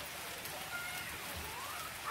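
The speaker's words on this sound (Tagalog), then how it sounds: "umulan sa amin ng ice" Steady dense patter of hard pellets striking surfaces, a constant wash of ticking and rattling that swells slightly at the very end.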